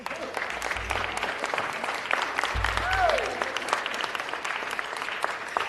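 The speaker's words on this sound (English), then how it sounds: "Can we give them a round of applause?" Audience applause at a city council meeting for a hunger-relief student group, moderate and steady under faint talk, with a few low rumbles and a brief voice in the middle.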